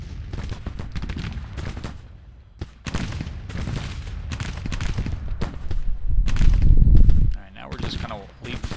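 Artillery and gunfire crackle and boom through a Civil War video game battle on the Gettysburg map, with repeated sharp reports and a heavier rumbling blast near the end, heard under a man's speech.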